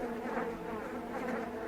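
Flies and other insects buzz in a steady, close drone that fills the whole short stretch without any talk.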